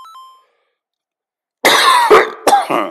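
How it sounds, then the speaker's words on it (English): A person coughs hard several times in close succession, loud and near, after a faint electronic beep and a stretch of silence. "I don't mean to cough in y'all's ears."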